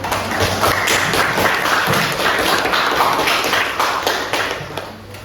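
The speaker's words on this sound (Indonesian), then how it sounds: "Kita beri aplaus dulu" Classroom applause from students, a dense, steady patter of hand claps filling the room at close range, holding strong for about five seconds before tapering slightly at the end.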